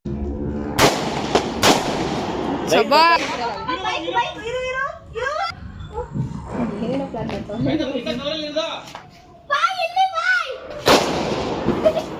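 Several sharp firecracker bangs burst nearby during Diwali celebrations at home, scattered between excited voices of people talking and shouting.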